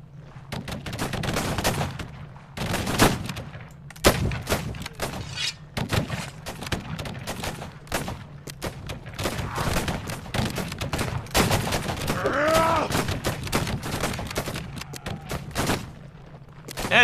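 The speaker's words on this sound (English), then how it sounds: "Cannoneers, fire!" Ship cannons firing in the pirate game Caribbean!, a long run of loud, rapid booms and cracks in irregular volleys, close and dense, with no pauses longer than a moment.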